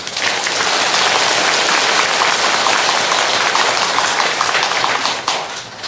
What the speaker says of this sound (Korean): 이 덕분에 박수 쳐야 돼.